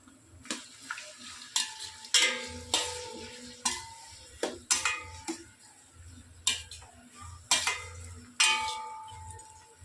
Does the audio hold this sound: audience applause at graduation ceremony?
no